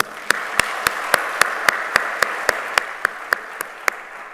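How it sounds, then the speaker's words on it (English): Applause at a global summit, with sharp, evenly spaced single hand claps standing out over a softer, steady bed of crowd clapping. "Let us take a moment to acknowledge this with a round of applause."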